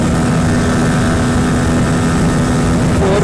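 A TVS Apache RTR 160 4V and a Pulsar NS 160 in a drag race give a loud, steady engine roar with wind noise that fills the whole stretch and holds without letting up.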